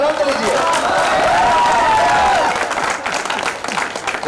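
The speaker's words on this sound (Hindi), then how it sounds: "ताली बजाइए और आनंद लीजिए।" A festival audience at a university cultural programme claps loudly and continuously, the dense applause steady for a couple of seconds, then thinning out as it fades.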